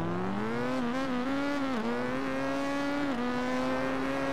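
In the MX Bikes racing game, a Suzuki GSX1000 and a Honda CB1000R launch together, engines revving hard and climbing in pitch, with brief dips at gear shifts. The motors play alone without talk.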